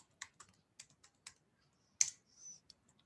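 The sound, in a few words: typing a password on a computer keyboard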